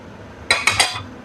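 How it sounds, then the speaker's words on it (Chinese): Three quick metallic clinks of a small spoon against a hot wok while adding half a spoonful of oil for stir-frying water spinach, close and bright, spaced evenly over a quiet kitchen background. "我们放上半小勺油"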